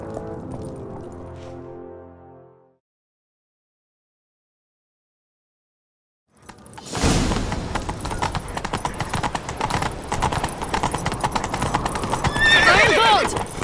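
Hooves clip-clop in a steady galloping rhythm with a horse whinnying, loud and close, following a brief stretch of music and a pause of silence, from The Witcher 3: Wild Hunt on PS5.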